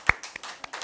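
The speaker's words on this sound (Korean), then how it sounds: "박수 박수 박수" A few claps from a church congregation at a Bible study, scattered and sparse over less than a second, one sharp clap standing out near the start with softer ones following.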